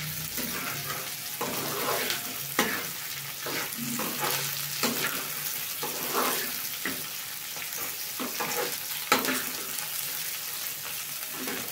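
Okra fries in a pan with a steady, bright sizzle and crackle, broken by occasional scraping stirs and soft clatters, continuous throughout with no voices.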